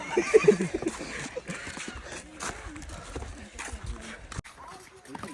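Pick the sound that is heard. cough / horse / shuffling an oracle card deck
horse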